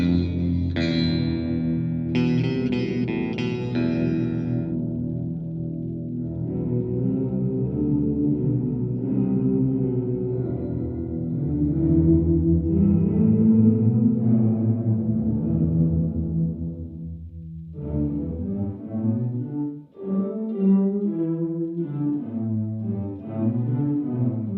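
An electric guitar plays through a Walrus Audio Slö reverb pedal set to sync modulation, sustained chords swelling and shimmering with lush, wavering reverb tails, loud and alone without talk.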